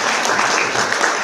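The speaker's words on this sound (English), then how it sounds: "A big round of applause for all our speakers." Steady, loud clapping from a large audience at a youth leadership conference, many hands blending into a continuous wash of applause for the speakers, close and sustained without pause.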